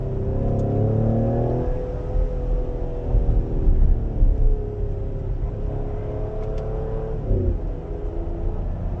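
Engine of a 2020 Ford Explorer ST, partly piped through the cabin speakers, rumbles and revs steadily from inside the car, rising and falling in pitch across several gear-like sweeps, loud and continuous with no talk.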